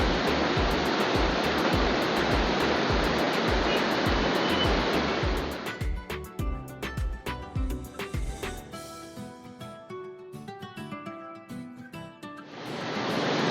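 A water fountain at a road junction in Rajahmundry gushes and splashes in a loud, steady rush for about five seconds. Music with distinct tones follows, and the rushing water returns near the end.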